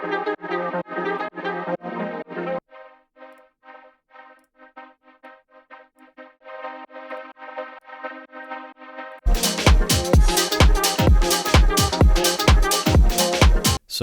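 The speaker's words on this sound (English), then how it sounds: "I've added this atmospheric drone to fill up the space in the background" Sustained atmospheric drone pad in a lo-fi, old-school electronic track, first heard with other layers, then thinning to a soft pulsing bed before a loud full mix with punchy percussion comes in.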